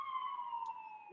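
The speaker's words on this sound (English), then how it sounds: "Sorry if you guys can hear ambulance in the background." A faint, distant ambulance siren holds a steady wailing tone in the background for a brief moment.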